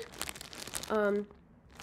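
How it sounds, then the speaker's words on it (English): Plastic bags holding yarn crinkle and rustle in sharp, close bursts, with a brief voiced sound in the middle and another quieter rustle at the end. "Sorry about the crinkling for the plastic bags."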